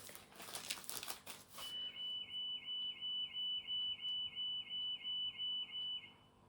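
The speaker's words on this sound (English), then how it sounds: "Car alarm outside." A car alarm sounding outside a terraced house, a steady repeating electronic whoop pulsing about a dozen times, moderately distant, following a burst of crinkly rustling nearby.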